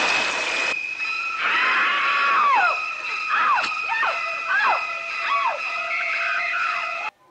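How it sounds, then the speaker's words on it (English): Shrill, shrieking string stabs from the Psycho shower-scene knife attack, repeated sliding cries in a steady rhythm over sustained high tones, loud and continuous. "that very iconic scene when she's in the shower and we've got the knife stabbing with the very intense, important sound behind"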